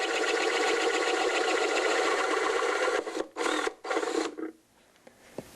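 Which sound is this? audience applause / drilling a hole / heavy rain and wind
drilling a hole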